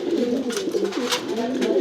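Pigeons in a sky pigeon loft give close, loud rolling coos, one bird's wavering call standing out clearly over others in a continuous stream.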